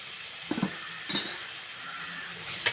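Kerala-style fish molly masala being sautéed in a pan, with a few sharp utensil clinks and scrapes over a faint, steady sizzle.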